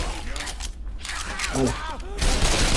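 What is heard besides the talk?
gunshots in the video game Left 4 Dead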